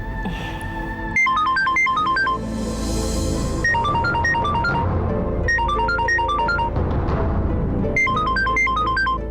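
Bright electronic mobile phone ringtone for an incoming call, repeating its melodic phrase in loud bursts with short gaps, up close and alone without talk.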